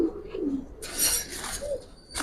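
Giribaz pigeons in a loft cooing, low throaty coos near at hand, followed by brief bright chirps and rustling bursts.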